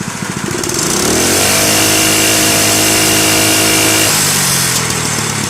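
A Honda GX160 small engine revs up to a steady high-speed drone with strong harmonic tones, holds for several seconds, then drops back to a lower idle, close and loud with no talking.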